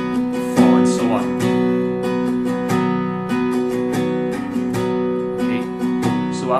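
Acoustic guitar strummed in a steady down-up pattern for a worship song, continuous bright chord strokes in an even rhythm, close and full, without any voice.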